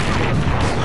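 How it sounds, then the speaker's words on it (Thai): Booming artillery fire from a war video game set in a mission to capture Baghdad, dense and continuous with overlapping low blasts filling the whole moment. "เราจะยิงเปิดท้ายด้วยปืนใหญ่ก่อนนะครับ"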